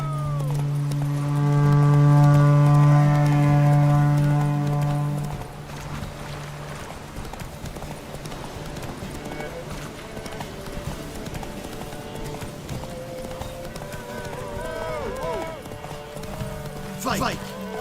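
Roach, a horse in The Witcher III, gallops with steady rhythmic clip-clop hoofbeats over a loud sustained musical tone. The hoofbeats keep going under game ambience, with a whinny-like call near the end.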